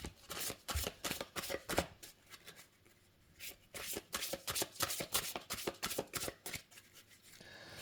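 A deck of oracle cards shuffled by hand, close and quiet, with rapid rhythmic riffling bursts, a brief pause, then more repeated flicking shuffles.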